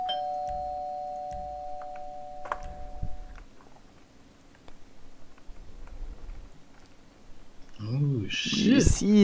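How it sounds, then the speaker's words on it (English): Doorbell in a GTA roleplay video game, a two-tone electronic chime ringing near the start, followed by footsteps and muffled movement, then people talking loudly at the end. "just wait till I get inside and then ring the doorbell"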